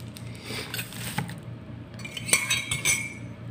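Lucky Me Pancit Canton Hot instant noodles being stirred together with their seasoning, with light clinks and scrapes of a utensil against a dish or pan repeating irregularly at close range over a low steady hum, with no talking.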